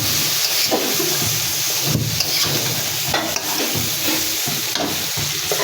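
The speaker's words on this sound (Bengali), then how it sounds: "মশলা আমার কষানো হয়ে গেছে" Spice paste frying hard in a pan, a loud continuous sizzle and hiss with repeated scraping strokes from a stirring utensil, close up and with no talking.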